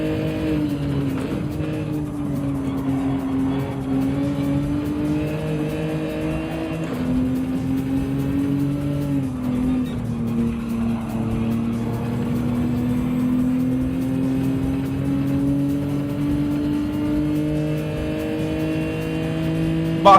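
Race car engines in Gran Turismo 7 drone steadily through a daily race, one close engine note rising and falling with shifts and throttle changes over a constant background of other cars, with no talk.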